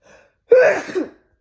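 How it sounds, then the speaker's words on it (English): A single sharp sneeze bursts out close to the microphone after a faint breath, then fades quickly into silence. "I'm gonna sneeze"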